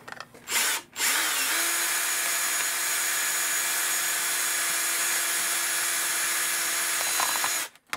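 A power drill bores a hole through a Commodore 64 fast load cartridge casing, producing one steady, loud, close whine that runs for about seven seconds between brief pauses, with no talking.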